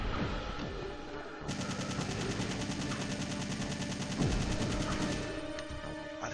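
A long continuous burst of machine gun fire in the survival horror game Resident Evil 3: Nemesis, rapid evenly spaced shots rattling for several seconds, loud and close, with a heavy impact partway through and no talking.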